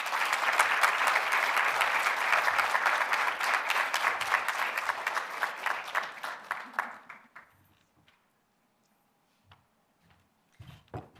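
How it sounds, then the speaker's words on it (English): Applause from an audience at a Women for Women International awards event claps loudly and densely, thins into scattered claps around seven seconds, then fades to near silence broken by a few isolated claps. "Let's do one more round of applause for all the awardees."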